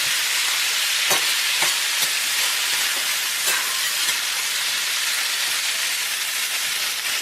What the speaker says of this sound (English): As it gets sauteed up a little, I'm going to add some garlic to it.